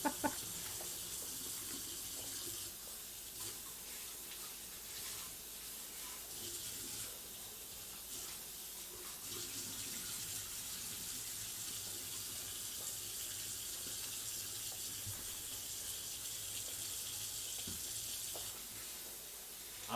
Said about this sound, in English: I always rinse out the meat containers just so they don't stink up the garbage that much.